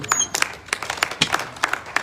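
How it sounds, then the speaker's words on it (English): Scattered applause from an audience at a surprise 50th birthday event, a handful of sharp, separate claps spread unevenly rather than a full ovation. "A round of applause for this person"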